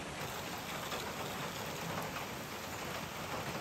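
Heavy rain falls steadily outside, a constant broadband patter and hiss of drops hitting surfaces, close and unbroken for the whole stretch, with no voices.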